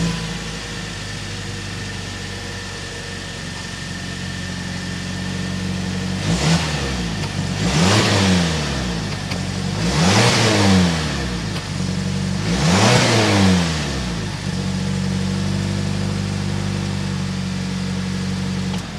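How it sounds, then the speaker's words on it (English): A 2023 Mazda CX-50 Meridian Edition with a turbocharged inline four-cylinder idles with a low steady exhaust hum, then revs four times in quick succession, each rev rising and falling, before settling back to idle. "Let's go inside, start it up so you can hear that exhaust note."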